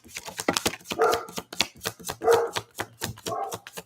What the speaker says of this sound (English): Those poor little dogs.